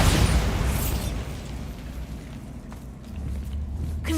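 A Bombarda spell explosion in a video game opens with a loud, sharp blast and then fades into a long rumbling decay with a low boom swelling again near the end.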